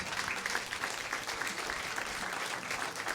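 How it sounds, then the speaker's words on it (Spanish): An audience at a Spanish-language church talk applauds in a continuous, fairly faint patter of many hands, steady and unbroken from start to finish. "Un aplauso"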